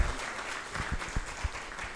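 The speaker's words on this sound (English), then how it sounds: "let's give a big round of applause for Mr." A conference audience at a pharma summit applauds a speaker, steady clapping at moderate distance with a few louder individual claps standing out and faint voices underneath.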